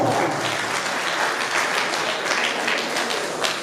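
Steady applause from an audience at a 50th-anniversary celebration as Madame Béatrice Simon is called up to receive gifts, dense continuous clapping filling the space without pause.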